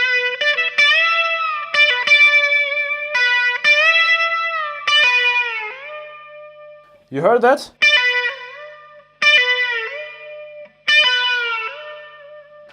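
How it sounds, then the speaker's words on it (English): An electric guitar with tremolo plays sustained melodic phrases, loud and close, with ringing notes and a short burst of scraping noise midway; a voice speaks briefly. "But this time we're gonna use our tremolo"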